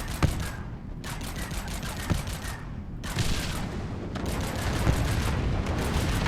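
Rapid gunfire from a weapon in the frozen-world survival game Heat Death: Survival Train. Dense bursts of shots crackle in several volleys with short gaps between them and stay loud throughout.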